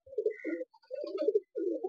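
A pigeon coos close by in a rhythmic series of low, throaty rolls, four phrases with brief pauses between them, clear and alone.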